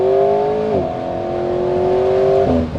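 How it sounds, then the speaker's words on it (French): An Alpine A110S with an aero kit and 300 hp engine revs loudly up close, its tone holding steady then dropping sharply on each of two quick downshifts, with no talking. "Là, on fait un petit rétrogradage."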